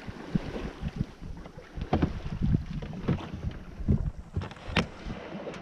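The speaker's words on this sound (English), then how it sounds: "The wind from the south has now come in" Wind blowing across a 1970 Contessa 26 sailboat at sea off the coast of Ireland, with gusty buffeting on the microphone and sloshing, knocking water and hull sounds close by, no talk.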